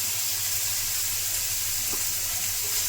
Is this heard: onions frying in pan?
yes